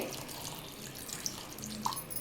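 Cold water runs and splashes softly into a bowl, a faint continuous trickle with a few small drips, no talking.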